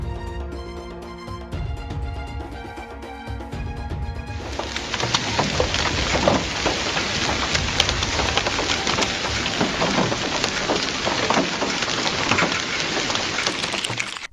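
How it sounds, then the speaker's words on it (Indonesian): A heavy night hailstorm batters Bulgaria during a half-hour storm in July 2021. After a few seconds of music, a dense, steady roar of falling hail begins and continues loudly. "disertai hujan es yang tidak stabil."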